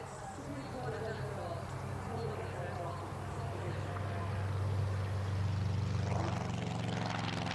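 Propeller aircraft of the Diamond 9 civilian formation team fly past at an airshow at Duxford, a steady droning engine hum that swells louder toward the end, with a voice talking over it.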